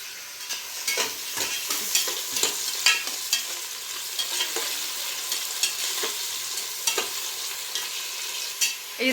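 Onions with fennel seeds and green chillies fry in hot oil for soybean rice, a steady close sizzle broken by frequent scraping clicks of a stirring spoon, with no voices.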